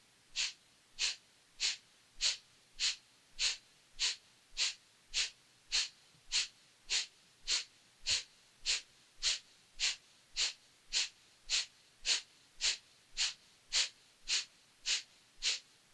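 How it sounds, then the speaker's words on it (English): About twenty evenly spaced, sharp breath pulses from a guided breathing exercise, each a quick forceful puff through the nose or mouth, fairly close and steady in rhythm, with no talk over them. "Pulse the breath."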